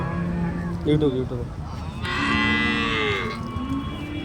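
Punganur calves at a cattle market, with several close, drawn-out moos that overlap one another against busy background noise.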